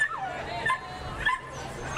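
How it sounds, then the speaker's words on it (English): Excited dachshunds yip, whimper and bark in a race starting gate at a racetrack, short high yelps repeating in bursts over a steady background hum. "You can hear the noise. These wiener dogs are very excited for their endeavor."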